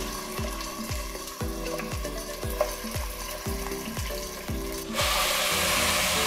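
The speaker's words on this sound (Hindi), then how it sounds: "अब हम इसको कलर चेंज होने तक भून लेंगे" Mutton pieces fry in hot oil for Kabuli pulao, a dense continuous sizzle that swells louder and brighter toward the end, with faint repeating tones running underneath.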